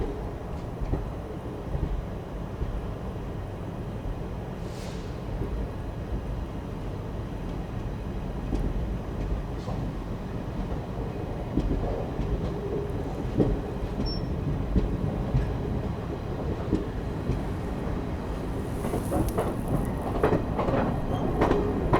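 Delhi to Dehradun 14041 Mussoorie Express running, a steady continuous rumble of the moving train with faint rail clatter and some wind buffeting, growing slightly louder toward the end.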